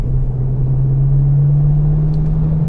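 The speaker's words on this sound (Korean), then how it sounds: "배기음이 꽤 크게 들려요." A deep, steady exhaust drone from a BMW M8 coupe rumbles at under 2500 rpm, loud and constant, with no voices.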